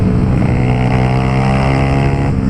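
A Honda Titan 150 motorcycle fitted with a Pro Tork exhaust drones loudly up close, its engine note steady and strong with a slight rise in pitch toward the end.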